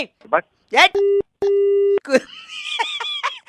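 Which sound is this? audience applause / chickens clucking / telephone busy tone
telephone busy tone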